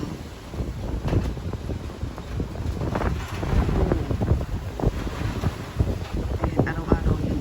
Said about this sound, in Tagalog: Lakas ng hangin as in sobra yun.